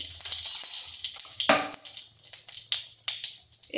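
Whole cumin seeds and a dried chilli dropped into hot oil, giving a bright crackling sizzle with a sharp burst near the middle and scattered pops after, close up and moderately loud.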